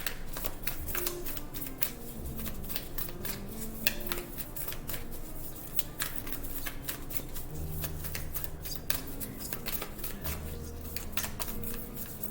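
Moonology oracle cards are shuffled by hand in a long run of close, crisp riffles and soft slaps, with a faint hum underneath and no speech.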